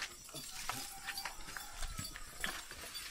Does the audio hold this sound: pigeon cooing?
no